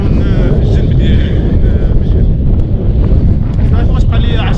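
Steady, loud wind buffets the microphone while riding along the sea on the Moroccan Saharan coast, with the wind coming from the side. The roar is continuous and dense, with faint voice-like traces beneath it.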